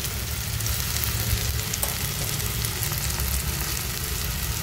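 Spice masala with chana masala powder, kasuri methi and salt fries in a pan over lowered heat, a steady dense sizzle with soft stirring scrapes running close and unbroken throughout.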